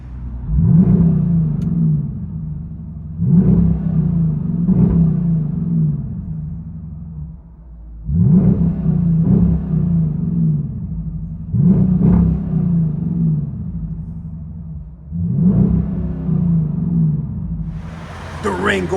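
Deep V8 exhaust of a 2019 Dodge Durango R/T with a 5.7L HEMI and rear muffler delete, heard from inside the cabin: loud low rumble with repeated rev surges and drops, about six pulses, no talking.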